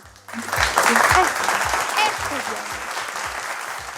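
Loud, dense clapping from a crowd swells quickly, then tapers off gradually while staying steady and close.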